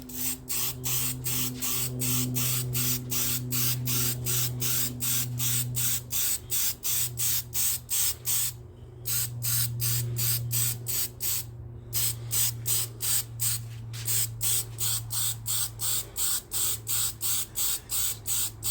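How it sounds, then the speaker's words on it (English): Light coats of aerosol primer sprayed onto an exhaust header, heard as a long run of short, evenly spaced hissing bursts with two brief pauses, close and loud over a steady low hum. "it's only to for the top coat to stick to, so it probably only needs a couple of light coats"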